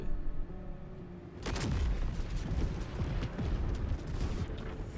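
A sudden loud blast erupts in Baldur's Gate 3 after a quiet lead-in, followed by a long rumbling, crackling roar that carries on to the end.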